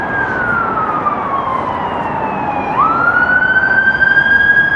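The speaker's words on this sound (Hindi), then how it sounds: "और ये फायर ब्रिगेड जा रही है।" A fire brigade truck's siren wails past on a Dublin street near a station and bus stop, its pitch sliding down and then jumping back up as it sweeps by amid steady traffic rumble.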